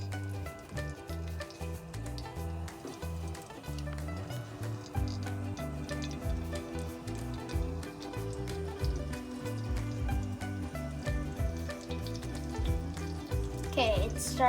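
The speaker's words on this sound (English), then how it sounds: "You can start hearing the crackling noises." Cumin seeds crackling in hot ghee for paneer tikka masala, a dense continuous sizzle with quick popping crackles that builds toward the end, heard up close without talk.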